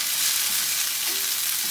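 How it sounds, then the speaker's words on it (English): Lion's mane mushrooms sauté in a hot pan, giving a steady close-up sizzle and crackle of frying with no voices. "we can continue on with our saute project over here"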